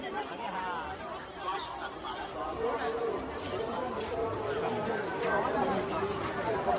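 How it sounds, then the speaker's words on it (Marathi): Dense crowd chatter and hubbub fill the busy Aanganewadi jatra fairground in Konkan, a steady murmur of many voices near and far that grows slightly louder, with footsteps and movement mixed in. "तसं तसं गर्दी वाढत चालली बघा मंडळी"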